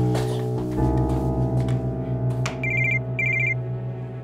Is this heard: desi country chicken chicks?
no